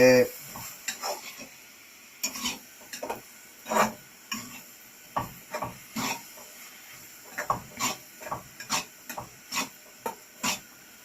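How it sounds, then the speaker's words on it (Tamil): Eggplant curry with ghee being stirred in a pan, heard as a regular series of spoon knocks and scrapes against the pan over a faint sizzle, each stroke close and distinct. "நல்லா கிளறுங்க"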